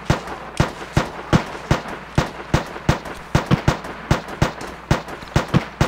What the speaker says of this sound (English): God, all the shooting.